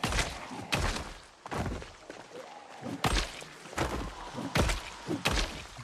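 Repeated heavy fire axe strikes in Project Zomboid, about eight loud, punchy thwacks and thuds landing in an irregular rhythm, close and alone without talk.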